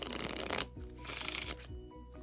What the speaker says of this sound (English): Give it a couple shuffles, because just one shuffle